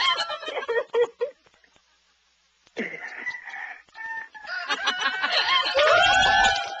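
Chickens call nearby in a rural yard, with bursts of clucking and a drawn-out, crow-like cry toward the end, broken by a short quiet gap.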